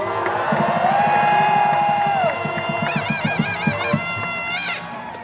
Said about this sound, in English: Give them more a round of applause, please.